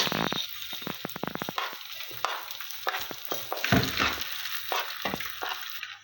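Rice goes into a pan of fried onions for Egyptian sayadeya, sizzling with bursts of crackle and stirring scrapes, loud and close with short pauses between stirs.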